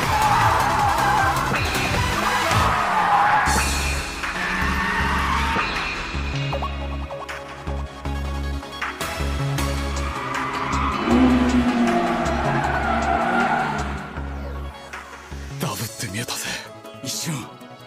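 A Toyota 86 tire squeal during a high-speed four-wheel drift in the anime MF Ghost, a long screeching wail over a droning engine, with a race commentator talking excitedly throughout.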